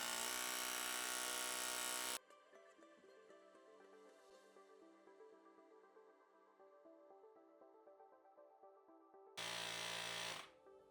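A tiny soda-can-sized electric pump inflating a tire runs as a loud, steady buzzing motor whine for about two seconds, goes quiet while a soft tonal background lingers, then starts up again loudly near the end.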